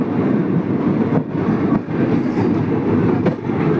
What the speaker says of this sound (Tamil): இந்த அசோகபுரம் எக்ஸ்பிரஸ் போயிட்டுருக்கு பாருங்கள்